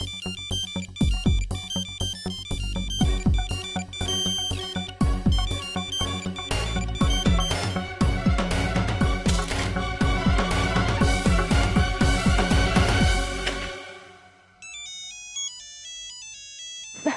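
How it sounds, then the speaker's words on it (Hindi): A melodic mobile ringtone plays loud and repeating, a busy musical phrase looping, then cutting off into a softer chime at the end. "मिस्टर विटमन का फोन है।"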